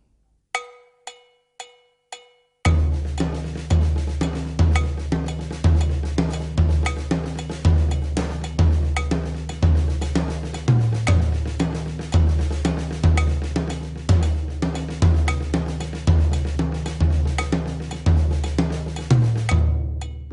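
A drum kit plays a steady, driving paradiddle with accents on the toms, loud and continuous after a few count-in clicks, every stroke clear and the accented hits landing in a repeating cycle.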